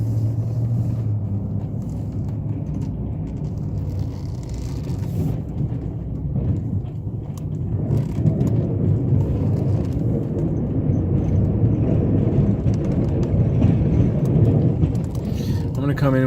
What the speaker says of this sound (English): I'm going to come in with the big tractor.